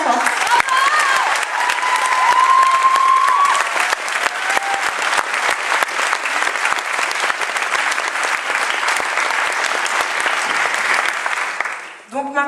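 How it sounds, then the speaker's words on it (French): A gala audience claps loudly and continuously for over ten seconds, a dense crowd ovation that fades out abruptly at the end. "donc merci de les applaudir bien fort."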